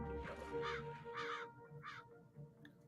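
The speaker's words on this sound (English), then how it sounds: "Oh, I think I see some crows over there." Crows cawing in the Frozen Planet II: Frozen Lands video game: several harsh caws in short bursts, fairly clear against quiet background, fading toward the end.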